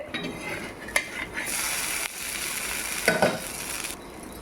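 Kal dosa batter cooking on a hot griddle, a steady broadband sizzle with occasional brief clicks and scrapes, close and moderately loud throughout with no voice.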